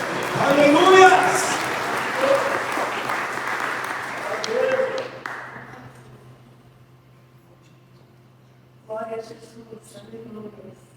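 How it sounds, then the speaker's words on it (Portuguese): A church congregation applauds during a communion service, with a dense, loud burst of clapping mixed with voices over the first five seconds, fading to quiet before speech resumes near the end. "Você pode dar salva de palmas para o Senhor"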